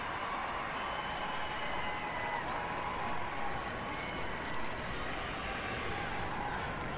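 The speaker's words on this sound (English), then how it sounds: "Warm applause for Rapinoe and, of course, for Carly Lloyd, who now wears the armband." A stadium crowd at a USA women's national team match against China applauds as Megan Rapinoe is substituted for Carli Lloyd, a broad steady wash of clapping and crowd noise lasting throughout.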